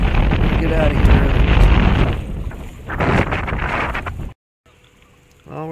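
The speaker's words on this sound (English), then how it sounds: "It's just too windy out there." Heavy wind buffeting the microphone outdoors on a lake while fishing by boat, with gusty roaring and water noise, a voice speaking briefly, then a sudden drop to near silence.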